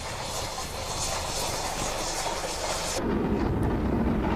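Freight train heading north from Old Oak, a dense steady rumble and roar that shifts lower and heavier partway through, with no clear voices.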